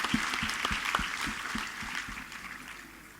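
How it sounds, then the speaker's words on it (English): Audience applause after a Saraswati Vandana dance performance at a corporate annual event, a steady wash of clapping with distinct nearby claps standing out, tapering slightly toward the end. "I guess we should give them one more round of applause"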